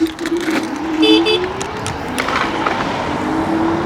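A car horn honks in short bursts on the road, heard from an electric scooter ride through dry, open terrain, with steady wind and traffic rumble underneath.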